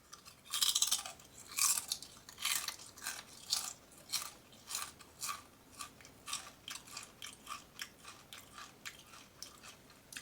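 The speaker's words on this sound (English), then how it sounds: "Listen to the crunch." Siete queso-flavored kettle chips crunch loudly and up close as they are bitten and chewed, in a steady run of sharp, crackling bites that gradually soften as the chewing goes on.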